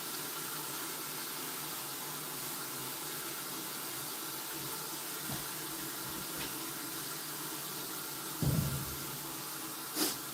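A water tap runs steadily into a salon shampoo bowl, a constant close hiss and splash that persists throughout, with a couple of brief knocks near the end.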